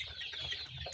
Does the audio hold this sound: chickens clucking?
yes